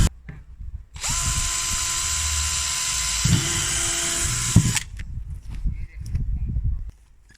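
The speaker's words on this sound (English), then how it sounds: "The first thing we're going to do is drill some holes, about 15 holes." A power drill bores holes in a plastic worm farm container, a sustained high whine lasting about four seconds that drops in pitch partway through, then stops, followed by handling clatter and rustling nearby.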